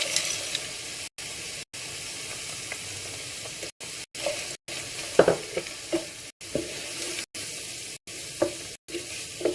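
Mixed vegetables sizzle in a hot pan for curry while being stirred, giving a constant frying hiss broken by scraping and clattering stirring strokes close by.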